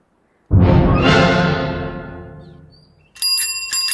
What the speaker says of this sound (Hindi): पियून के साइकिल की घंटी।